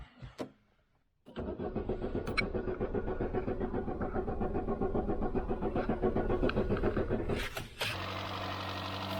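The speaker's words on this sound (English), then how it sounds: "you can turn the engine over and it'll keep on cranking" Peugeot 205 Junior engine cranking over for several seconds after a click, a rapid, even chugging churn held at steady loudness before it cuts off, followed by a short mechanical clunk.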